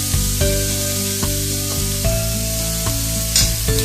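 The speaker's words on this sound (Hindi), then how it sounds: "गैस तेज है इसलिए हमें बीच बीच में चलाते रहना है ताकि ये कढ़ाई में चिपके ना" Pizza sauce sizzling and frying over high gas heat in a kadhai, a steady loud hiss broken by regular scrapes and stirs of a spoon against the pan, close up with no talking.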